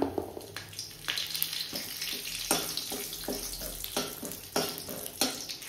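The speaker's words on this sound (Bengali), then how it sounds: "এবার এই তেলের মধ্যে দিয়ে দেবো ফোড়ন, জিরে আর হচ্ছে এলাচ, আর দেব তেজপাতা" Cumin, cardamom and bay leaf crackle in hot oil in a home kitchen, a steady close sizzle with intermittent clicks and pops, no speech.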